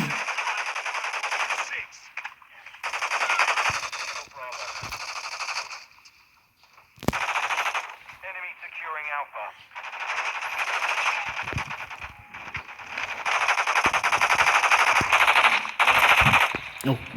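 Bursts of automatic gunfire in the mobile game Call of Duty: Warzone Mobile, loud sustained volleys with short pauses, mixed with game effects and voices talking over the shooting.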